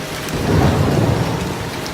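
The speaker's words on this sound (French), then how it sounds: "ces nuages donnent de la pluie" Heavy rain pours over Amazon rainforest as a dense, continuous hiss with low rumbling underneath, loud and close throughout, with no voices.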